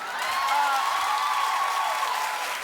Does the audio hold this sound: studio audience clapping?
yes